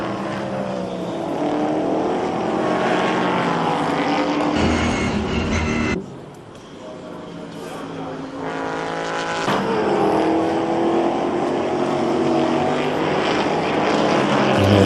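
Racing cars in a 2011 International Superstars touring car race, including a Jaguar, roar past in a loud, continuous engine drone that dips briefly midway before swelling again, with no talk.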